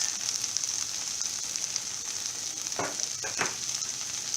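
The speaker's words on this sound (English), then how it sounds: "this has to be done on a medium flame, because we have to fry our bhendi very well" Okra sizzles steadily in a pan over a medium flame, a close, continuous frying hiss broken near the end by a couple of short stirring scrapes, with no voices.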